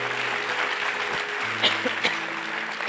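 A church congregation applauds during a Spanish-language testimony, with a continuous wash of clapping over a low steady hum and a couple of brief sharper accents.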